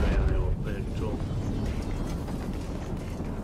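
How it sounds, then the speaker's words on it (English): A vehicle explosion in the video game Star Citizen, a dense low rumble with a brief burst at the start that settles into a steady roar, with a voice faintly under it early on. "The explosion looked very impressive there"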